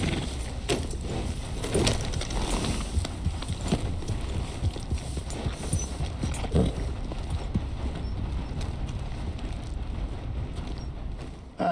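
Continuous hoof clip-clops from a horse in the video game Red Dead Redemption 2, steady and fairly close, over a busy wash of background ambience.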